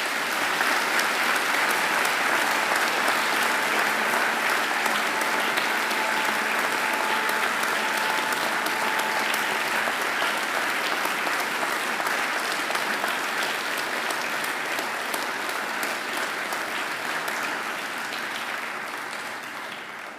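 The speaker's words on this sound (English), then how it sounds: "And now I invite you to give them a mighty round of applause." Graduates at a university graduation ceremony applaud their families and friends, a loud, dense, sustained round of clapping from a large crowd that carries on for about twenty seconds and tapers slightly at the end.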